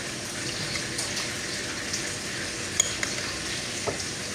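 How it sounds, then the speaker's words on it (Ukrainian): A steady soft scraping and sizzling of a spoon stirring sauce for chicken thighs in a hot pan, with a few light clinks, close and continuous. "Перемішуємо це все діло."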